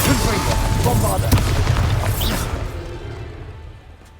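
A loud Bombarda spell explosion in the Hogwarts Legacy video game, a heavy booming blast with a sharp crack, rolling and fading over a few seconds.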